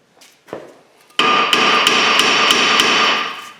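A Toyota Camry's old front brake rotor is struck with a hammer during a brake pad and rotor replacement: a few soft knocks, then a loud ringing metallic blow followed by several rapid repeated strikes.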